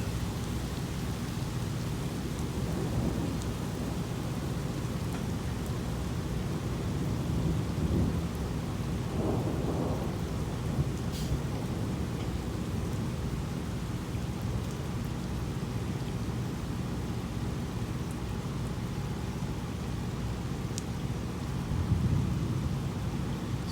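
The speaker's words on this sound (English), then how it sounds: "So this is just a little storm coming in." Early-morning June thunderstorm in Advance, North Carolina: steady rain hisses throughout while low, rolling thunder rumbles in distant swells, with a few close drops landing near the microphone.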